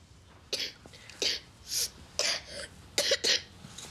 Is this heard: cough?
yes